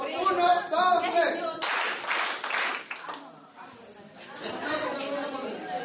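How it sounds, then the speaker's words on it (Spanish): A group gives a warm round of applause, with uneven bursts of clapping mixed with chatter and laughter, plus a spell of calmer talking in the middle. "Un aplauso caluroso."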